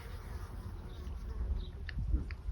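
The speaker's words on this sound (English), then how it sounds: "can you see bees coming in and out of the hive?" Honeybees buzz around a hive on a Welsh smallholding, a steady close-up drone with single bees whizzing past now and then.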